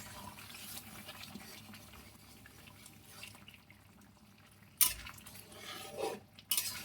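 A pot of gourd and stinging catfish curry is stirred: soft scraping and clinking of a utensil against the pot, quiet and close, with a couple of sharper knocks near the end.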